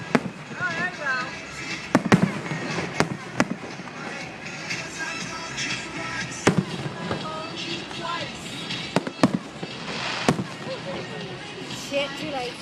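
Fireworks burst over a Stone Crabs minor-league baseball game, with sharp scattered booms and crackles at irregular intervals, some near and loud, under crowd noise and people talking.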